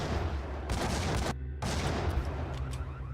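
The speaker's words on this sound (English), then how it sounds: "Oh, shooting grenades!" Dense gunfire and explosive bursts from enemies launching grenades in the video game Max Payne, a loud continuous barrage that briefly cuts to near silence before resuming.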